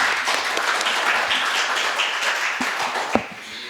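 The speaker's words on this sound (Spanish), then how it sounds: "le damos la palabra y un aplauso a Luis y muchas gracias." Sustained applause from a seated audience at a community sociology conference, a dense steady patter of many hands filling the room, easing slightly near the end with one sharper clap standing out.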